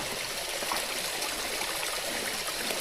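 A clear mountain stream rushes steadily on the off-road route to Murari Devi, a constant broadband wash of flowing water, close and even, with no talk over it.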